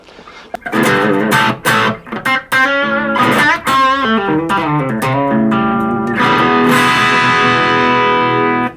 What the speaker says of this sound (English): We've then got crunch.